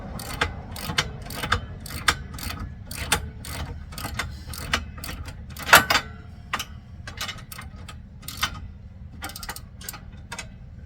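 A plastic lock nut being hand-tightened with a socket ratchet on a Polaris HD plow hydraulic lift, giving a steady run of close, crisp ratchet clicks in short bursts with brief pauses.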